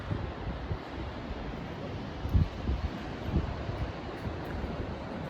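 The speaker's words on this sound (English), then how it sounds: "It's windy, we're expecting storms." Outdoor wind before storms blows at Orange Beach in a steady broadband roar, with soft buffeting gusts against the microphone and no speech.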